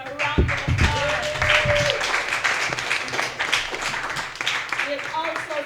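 A press briefing audience applauds the Charlestown Primary School Tigers, the defending champions, with steady clapping that runs under a speaking voice at the start and then continues on its own.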